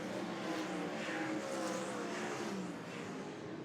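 Sprint cars racing on a dusty dirt track at a New Zealand sprintcar Grand Prix heat, a distant, faint, continuous engine roar with swelling passes blending into a broad wash of noise.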